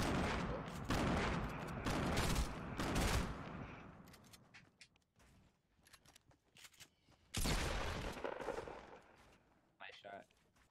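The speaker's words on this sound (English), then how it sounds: "Oh, I hear a gunshot." Gunfire in a console shooter video game, loud broadband bursts of rapid shots in two main clusters, at the start and again near the end, with quieter scattered activity between them and no talk over the shots.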